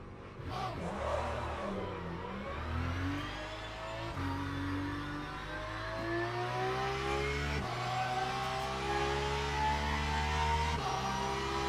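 A Porsche race car engine in the racing game Le Mans Ultimate drones steadily and climbs in pitch through the gears, with several upshifts that drop the tone before it rises again, loud and continuous with no talking.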